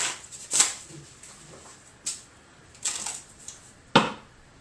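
Several quick papery riffles of a deck of playing cards being shuffled, a cluster near the start and more spaced bursts later, close and fairly soft with quiet gaps between.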